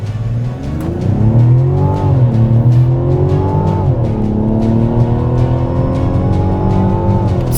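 A 2024 Mazda CX-90 mild hybrid in sport mode launches hard, its engine note climbing loud and close through rising revs with a brief shift dip, then holding a strong steady drone, no talk.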